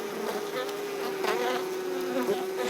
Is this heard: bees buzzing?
yes